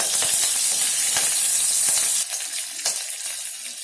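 Tempering spices fry in hot oil for a Maharashtrian dahi kadhi, a loud, close sizzle and crackle with sharp pops, easing slightly toward the end.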